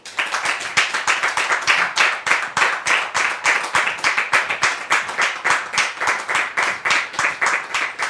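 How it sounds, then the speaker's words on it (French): Audience applause greets Séraphin as he comes onstage at a live French show, a dense, lively wash of many hands clapping with a steady pulsing rhythm, close and loud throughout. "sous vos applaudissements."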